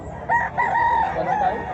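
A rooster crows loudly and close at a chicken expo and auction in Mantalungon, Barili, Cebu, one drawn-out crow over a busy background of murmuring voices.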